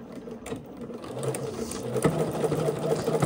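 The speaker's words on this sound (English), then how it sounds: "My machine automatically backstitches." A sewing machine runs steadily down the seam of a pair of Vinton pants at a 5 mm stitch length, a continuous close whirring drone with a busy mechanical clatter and no talking.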